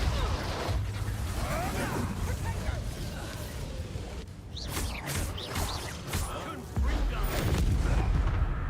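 Depulso spell blast in the Hogwarts Legacy video game, a whooshing burst with a boom in the middle of dense combat audio, backed by loud continuous game music and effects.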